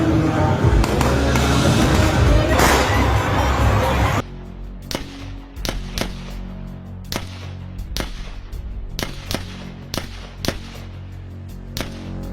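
Sharp crackling bangs like gunshots ring out during a Dussehra procession crowd in Kanchghar, Jabalpur, first under a loud crowd roar, then as a dozen or so irregular, separate cracks.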